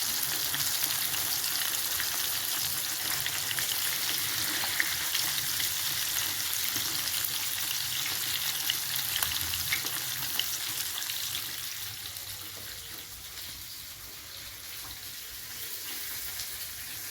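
Fish, village-style, frying in a pan of hot oil, a continuous even sizzle close by that eases slightly toward the end, with no talking.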